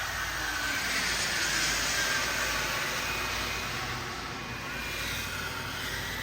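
A FlyWing EC-135 RC helicopter with a ducted fan tail flies nearby, giving off a steady whirring whine over a broad rushing hiss that dips slightly midway and then holds.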